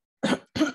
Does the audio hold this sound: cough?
yes